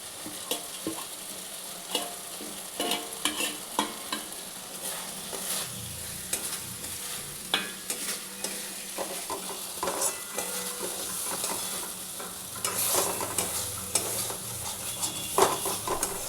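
Fried onion beresta tipped into a simmering masala for a potato-and-egg curry, crackling and sizzling steadily while a spoon scrapes and stirs the pot in repeated close clinks and scuffs, with no voices.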